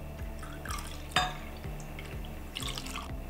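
Milk pours into a mixing container for a blueberry and lemon cake batter, making a quiet trickle with soft glugs and a brief clink near the middle.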